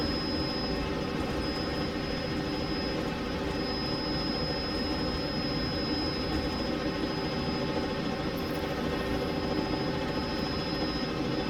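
Robinson R66 helicopter in a VR flight simulator, a steady droning turbine and rotor hum with a thin high whine, loud and unbroken throughout with no talking.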